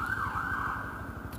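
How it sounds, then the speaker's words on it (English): A passing ambulance sounds its siren up close, the warbling tone loud and continuous over a rumbling road-traffic background for a brief moment, with no voices. "And there's that ambulance we saw."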